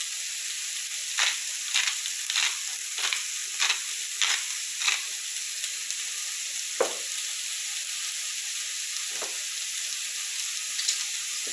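Chicken sizzling in a pan as it is stirred, a steady frying hiss punctuated by a series of regular scraping strokes, then a couple of slower, heavier scrapes.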